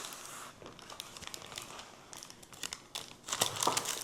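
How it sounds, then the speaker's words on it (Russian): Close, crinkly rustling of parchment paper being peeled off a chocolate roll cake, with soft crackles and a louder burst of crumpling near the end. "Снимаем пергаментную бумагу"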